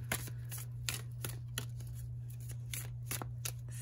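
Oracle cards from a moon deck are shuffled by hand, a quick series of soft riffling slaps at an irregular rhythm over a faint steady hum, close up and quiet, with no talk.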